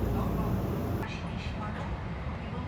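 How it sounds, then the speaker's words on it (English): Hello Kitty themed train in Osaka, heard as a steady low rumble of rolling rail cars close by, with a high whine cutting off after the first second and faint talk under the noise. "Here is the Hello Kitty train."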